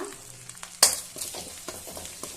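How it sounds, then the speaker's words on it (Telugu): Curry leaves and turmeric hit hot oil in a pan, a sudden loud splutter followed by a softer ongoing sizzle and a few stirring scrapes, close by. "కరివేపాకు కూడా ఇప్పుడే వేసుకుందాం వేగుతుంది బాగా"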